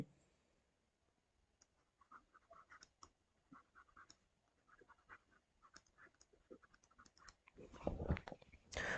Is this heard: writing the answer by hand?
yes